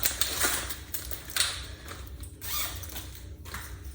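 Typing on a keyboard while entering a name into a search box, a quick run of close, dry clicking keystrokes in irregular bursts with brief pauses between them.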